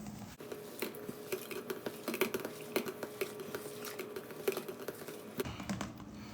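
A spoon stirs and mashes cheese filling ingredients in a bowl with quick, irregular scraping clicks and taps, close and steady, with no talk over it.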